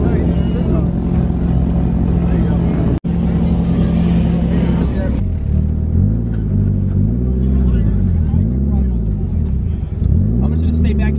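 A car drifts during a passenger ride-along, its engine revving and swooping in rising and falling sweeps from inside the cabin, loud and sustained, with people talking over it.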